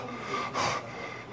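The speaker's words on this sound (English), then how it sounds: "Okay, big sniff through your nose." A patient sniffs sharply through the nose once during a nasopharyngoscopy, a short, close, breathy intake over a quiet room.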